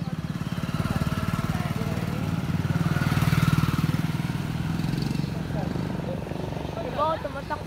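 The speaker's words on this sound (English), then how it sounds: "May mga motor." Motorcycles running along a road in India, a steady loud engine drone that swells and fades slightly as they pass, with people talking over it.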